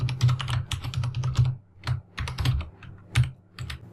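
Rapid typing on a computer keyboard while writing GameMaker code, dense clusters of close, crisp key clicks in uneven bursts with short pauses, no voices.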